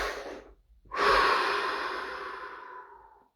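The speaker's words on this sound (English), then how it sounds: "Deep breath, 30 seconds." A single deep breath: a short intake followed by a long, slow exhale that fades over about two seconds, close and quiet during a guided stillness session.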